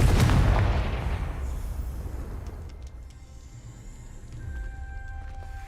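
A Confringo blasting spell from the game Hogwarts Legacy bursts with a loud, close explosive boom at the start, then rolls off into a fading rumble with light debris crackle.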